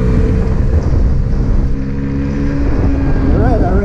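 Honda Ruckus scooter on freshly installed tires accelerates hard, its small engine droning loud and steady with a rising whine near the end, recorded up close while riding.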